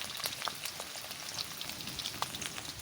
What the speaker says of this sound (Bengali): এই কটা প্রথমে ভেজে নিই